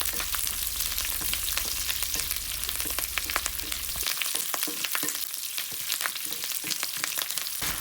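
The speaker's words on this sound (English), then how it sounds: "And we'll also add some curry leaves, and let's stir fry it a little bit." Curry leaves spluttering in hot oil as the tempering for gongura pickle, a steady crackling sizzle with scattered sharp pops throughout, close and without talk.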